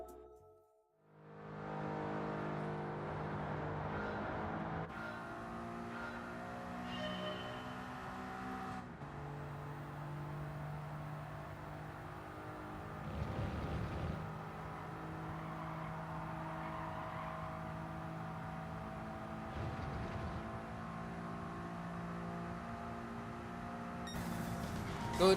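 A Gran Turismo 7 race car engine holds a sustained, high-pitched full-throttle drone through a fast corner, with brief gear-shift dips and a constant whine, loud and close with no talk.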